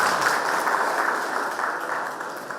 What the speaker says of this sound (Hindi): मेंबर्स ने तालियां बजाकर उनका अभिवादन किया